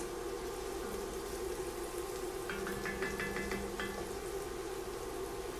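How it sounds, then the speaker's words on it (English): Chopped garlic frying in bacon fat in a pan, a faint, even crackle throughout with a short burst of quick ticking spatters in the middle. "it doesn't take long for this garlic to cook up, and we're still cooking in our bacon grease or our bacon fat"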